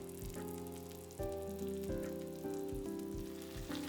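Dashi with kiriboshi daikon comes to a boil over medium heat in a pot, bubbling and popping in irregular bursts, soft and close, with no voices.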